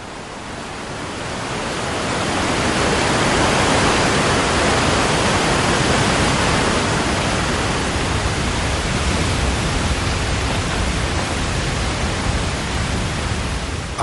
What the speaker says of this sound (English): icy torrents pour down the mountainsides